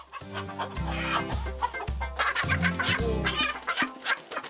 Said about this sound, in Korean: 사장님의 등장만으로도 도망치기 바쁜 닭들입니다.